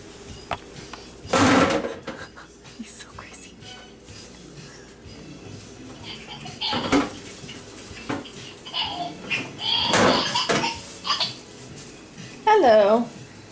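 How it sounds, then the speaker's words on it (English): A drawer is pulled open and rummaged through while fixing a fridge, giving several loud clattering bursts of items shifting and knocking, spread across the moment with people talking in between. "No, you wanna dig in the drawer."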